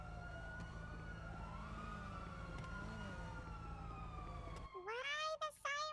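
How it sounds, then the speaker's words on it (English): Emergency vehicle sirens from a video game wail loudly and continuously, rising and falling for most of the stretch before cutting off into brief chirping yelps near the end. "Why the sirens? They're so loud."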